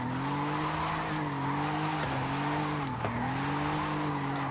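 Drifting car in Forza Horizon 5 on a farm trail drift zone, with a loud, continuous engine drone and a steady tire squeal throughout, the pitch dipping briefly twice as the car slides.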